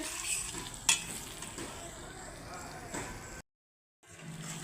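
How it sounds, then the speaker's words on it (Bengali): Fried brinjal with ground chilli and other spices sizzles in a pan while being stirred, a close hiss with scattered scrapes and a sharp knock, cutting out briefly before resuming, with a voice faintly present. "একসঙ্গে দিয়ে ভালো করে নেড়ে আমি ভেজে নেব"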